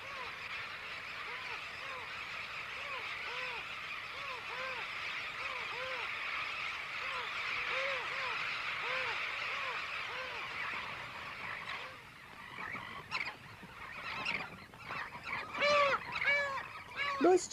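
A huge seabird colony of terns on an island fills the air with dense, overlapping calls, loud and continuous, with someone narrating over the clamor later on.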